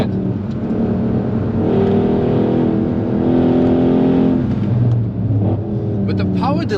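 A Mercedes C63 AMG Black Series engine revs and accelerates continuously on the Nürburgring, a loud, close, rising roar that shifts pitch near the end.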